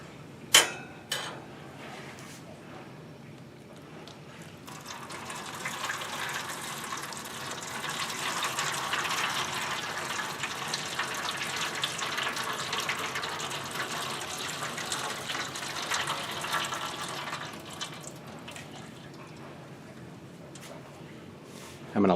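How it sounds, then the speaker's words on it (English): Warm soda ash solution, about two cups of water at 115–120 degrees mixed with soda ash, poured over fabric for ice dyeing; a steady splashing gush runs for roughly twelve seconds after a few sharp clicks, fairly close. "I'm going to pour that over this."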